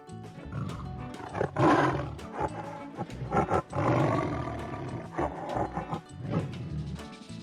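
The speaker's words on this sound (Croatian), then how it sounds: "Tigar." A tiger roars repeatedly, deep rumbling growls rising and falling up close, loud and continuous for several seconds.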